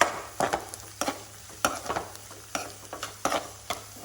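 Chopped carrot and onion sautéing in a pan, with a low steady sizzle under repeated stirring scrapes that come roughly every half second to second, close and fairly quiet, no voices.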